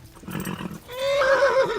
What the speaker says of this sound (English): Oh no, my horse is freaking.